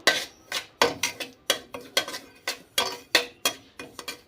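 Semolina being fried in a little oil in a pan over low gas for a sweet dish: a close, steady rhythm of spatula scrapes and light clinks against the metal, roughly a dozen strokes with no talking.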